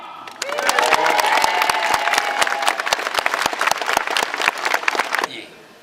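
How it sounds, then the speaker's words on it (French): A crowd at a costumed wool fair applauds the young page Clément, dense close clapping that swells quickly, holds for about five seconds and then stops abruptly. "Acclamez comme il se doit le jeune page"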